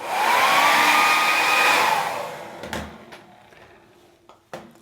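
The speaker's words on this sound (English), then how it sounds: "they both need to be melted with the hair dryer before you can use them" A hair dryer whirs loudly for about two seconds while melting moustache wax, then shuts off, followed by a few small clicks and handling knocks.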